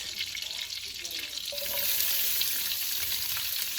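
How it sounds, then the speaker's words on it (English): Green onions sauté in a hot pan with a steady, close sizzle that grows louder and denser about halfway through, with faint crackles on top. "I'm gonna go ahead and saute everything"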